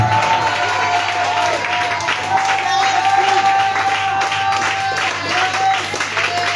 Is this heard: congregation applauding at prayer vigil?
yes